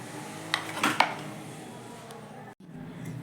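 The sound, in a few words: knife cutting pumpkin into small pieces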